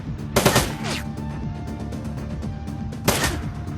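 Game gunfire in Shadowrun Dragonfall: two sharp bursts of shots, one early and one near the end, over a low, steady musical background.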